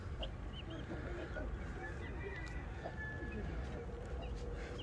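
Young white wild chickens clucking and murmuring outdoors in a busy flock, with scattered calls over a steady farmyard background.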